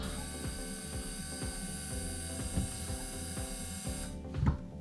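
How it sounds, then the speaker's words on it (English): A 2017 BMW i3 electric brake vacuum pump hums in a steady, close mechanical whir with a faint ratcheting texture, then cuts off abruptly near the end. "you're going to hear the brake vacuum pump come on"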